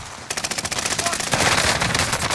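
Loud rapid automatic gunfire erupts in a shooter video game after a brief quiet start, a dense continuous burst of shots close by with no talking.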